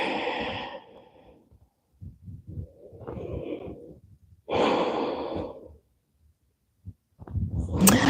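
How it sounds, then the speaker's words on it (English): Slow, deep breaths drawn in through the nose and released during a stretching session, close and breathy, several long inhales and exhales separated by short quiet gaps, with no speech. "Take a deep breath in through your nose."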